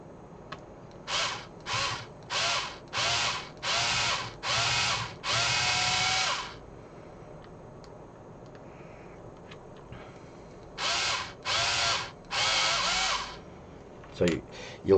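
A power drill bores into a hard plastic part of an X-Wing scale model in a run of short, even bursts, then pauses before a second group of bursts, close and loud.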